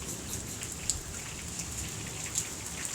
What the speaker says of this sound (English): There comes the rain again. Here comes the rain again.